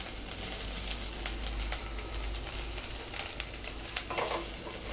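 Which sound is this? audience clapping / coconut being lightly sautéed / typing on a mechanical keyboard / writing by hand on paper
coconut being lightly sautéed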